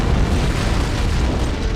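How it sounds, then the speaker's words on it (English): Antimatter charge blast aboard a ship in Halo: Combat Evolved, a deep, loud, rumbling boom that sustains as a heavy roar for the whole moment, with no talk over it. "It must have been one of their boarding parties. I'd guess an antimatter charge."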